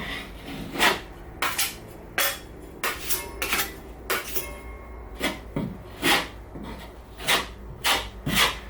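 A putty knife scrapes patching compound across a drywall hole in repeated rhythmic strokes, each a short raspy swipe with a soft tap, close and steady with no talking.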